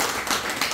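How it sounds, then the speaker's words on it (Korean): A church congregation breaks into applause for elder Lee Kang-ho during a Sunday worship service, producing a dense, steady burst of many hands clapping throughout the brief moment. "우리 이강호 장로님에서 박수 한번 쳐주시고"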